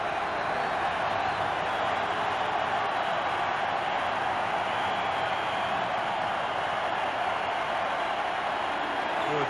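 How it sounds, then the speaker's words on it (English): A packed baseball stadium crowd at the 1987 World Series, Game 6, Cardinals at Twins, roars and cheers in a dense, unbroken wall of noise that stays loud and constant throughout. "Crowd trying to coax in the go-ahead run."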